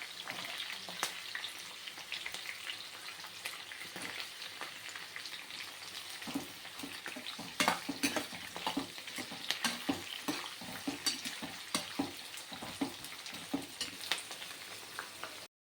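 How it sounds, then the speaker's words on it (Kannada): Chopped onions fry in hot oil in a pan for vermicelli upma, giving a steady crackling sizzle broken by scraping stirs of a spoon against the pan. "ನಾನು ಇದಕ್ಕೆ ಈಗ ಈರುಳ್ಳಿಯನ್ನು ಹಾಕ್ತಾಯಿದ್ದೀನಿ"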